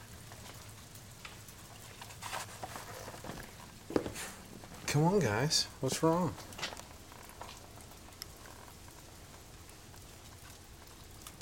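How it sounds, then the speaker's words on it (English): Rain falls steadily outside a house with chocolate Labrador puppies nearby, a soft continuous patter under a person's coaxing voice and a few brief puppy whines. "Can you hear the rain?"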